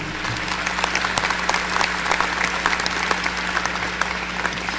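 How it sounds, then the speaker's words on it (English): Loud, sustained applause from a commencement ceremony audience honoring a keynote speaker, many hands clapping in a dense, even wash with a low hum beneath it. "Please join me in giving one more round of applause to our keynote speaker, Mr. Arend."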